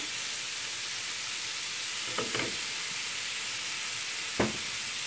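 Two garlic cloves sizzle in a hot pan for moussaka, giving a steady bright frying hiss, with a few soft clatters near the middle and one sharp tap near the end.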